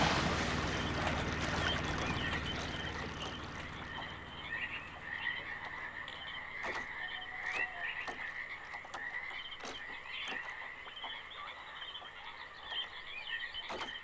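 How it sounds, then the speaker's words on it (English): Chorus of frogs croaking in the realMYST Masterpiece Edition game world, a dense steady rasping chirr over windy ambience, with occasional sharper clicks and no talking. "those frogs are awful noisy"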